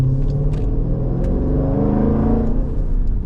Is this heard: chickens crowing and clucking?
no